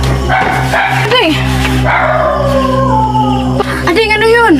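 Dog in a Filipino aswang horror film, close loud barks and howl-like yelps in several bursts, mixed with tense dramatic voices.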